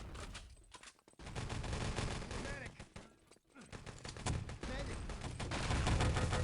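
Rapid rifle gunfire and bursts of shooting rattle through a video game match, with a grenade blast in the mix, while a commentator talks over the continuous dense fire.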